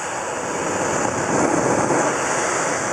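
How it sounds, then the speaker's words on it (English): A demonstration jet engine roars steadily with combustion inside, a loud, constant broadband rushing that swells slightly partway through and stays unbroken to the end. "Now, this is the explosion that's going on inside the jet engine the entire time."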